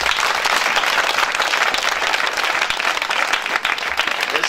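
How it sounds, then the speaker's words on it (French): A congregation at an open-air Christian crusade in Aka N'guessankro applauds and acclaims Jesus. The dense, continuous clapping and crowd noise hold steady, loud and close, throughout. "Est-ce qu'on peut acclamer Jésus?"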